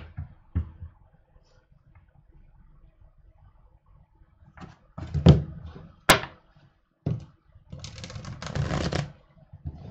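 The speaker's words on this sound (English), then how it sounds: "Now let me shuffle again" Tarot cards being shuffled in several bursts of riffling and flicking, close and crisp, with pauses and a sharp tap between bursts.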